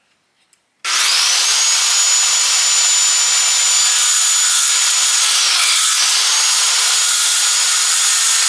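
A saw cuts through the wood of a raised garden bed, starting abruptly after a couple of small taps and running as a loud, steady, close grinding whine with one brief dip, no talk.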